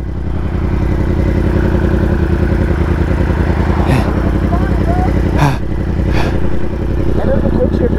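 Loud, continuous engine drone of a 2018 Yamaha R1 sport motorcycle while riding, steady high-revving with a few sharp clicks or bursts, voices talking over it.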